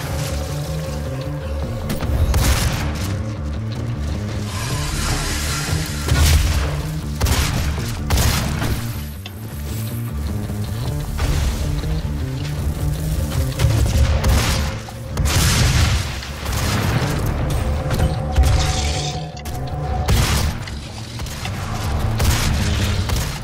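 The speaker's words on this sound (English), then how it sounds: "Oh, freaking rocket launcher" Rocket launcher fire and explosions in the game Doom, a steady stream of heavy booms and blasts repeating throughout amid dense combat noise.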